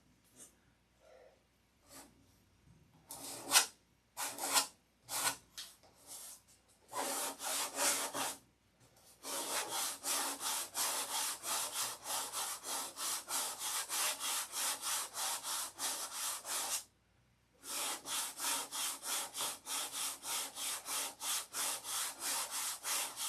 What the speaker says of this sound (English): Sanding with 320 now.